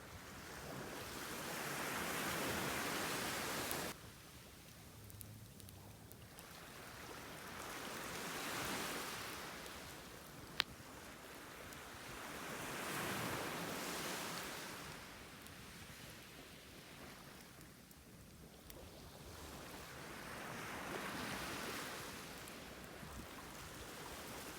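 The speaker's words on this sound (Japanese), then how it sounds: "たまに大きい波来た時。" Waves surge and recede on a shoreline at Tatsugo, Amami Oshima, in slow swells every few seconds, with a sudden drop after the first surge, steady hiss and wind between, no voices.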